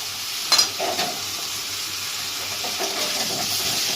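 Tomato paste being sautéed and stirred in a hot pan, a steady close sizzle with a few spatula scrapes and clinks, including a sharp knock early on, with no talking.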